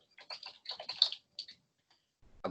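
Computer keyboard clicking in a burst of quick, close, dry keystrokes with uneven rhythm, then a pause and a few more clicks, with no talk.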